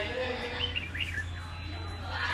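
A red-whiskered bulbul sings a few short, clear whistled phrases, fairly faint against a steady low hum and background noise, with someone talking over it.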